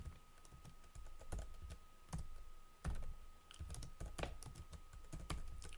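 Fingers typing on a computer keyboard in bursts of light, quick key clicks with brief pauses, close but quiet, with no talk.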